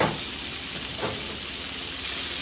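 Thin slices of New York strip steak sizzle on an oiled Blackstone griddle, a steady close hiss of frying with a brief louder burst near the start of the sear.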